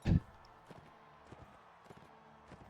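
Hooves of a charging horse in Mount and Blade Warband beat in a quick, regular clip-clop rhythm, fairly faint, after a brief loud thump at the start.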